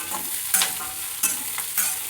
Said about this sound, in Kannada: ಇದನ್ನ ಚಲೋದಂಗೆ ಹುರ್ಕೋಬೇಕು.